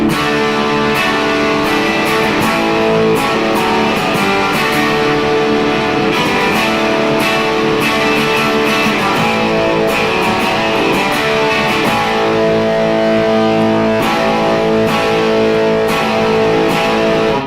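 A loud 2019 Gibson Les Paul Classic electric guitar with its push-pull tone setting down plays steadily, with ringing chords and picked notes carrying a thick, slightly driven tone throughout.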